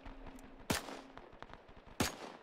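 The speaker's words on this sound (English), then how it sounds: "Oh, I have the MG here." Machine gun shots from a US .30 cal in the ARMA 3 WW2 mod during an Operation Torch beach landing, with two sharp, loud reports standing out over fainter distant popping.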